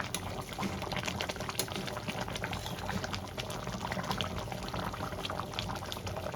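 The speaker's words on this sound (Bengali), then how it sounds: "আর একটু ভালো করে ফুটিয়ে গা মাখো করে নেবো" Katla fish curry with slit green chillies bubbling in a pan over a gas flame, a dense continuous boiling and bubbling sound that stays loud and close throughout.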